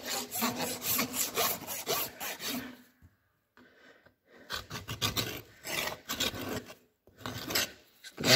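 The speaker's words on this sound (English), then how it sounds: "I'll finish it off a little bit with a rasp." A finishing rasp files over a hot-fitted horseshoe and hoof clinches in rapid back-and-forth strokes, loud and close, with a short pause midway before the rasping resumes.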